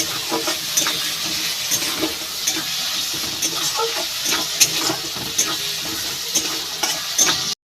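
Ginger paste frying with tomatoes in a pan while cabbage curry is being made, a soft continuous sizzle with light stirring scrapes and clicks, close and fairly quiet, no voices.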